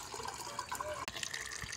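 Fresh water runs from a tap into a container for pet pigeons, a steady close splashing stream with a brief break partway through.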